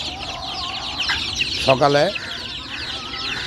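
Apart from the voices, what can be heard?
chickens clucking on a farm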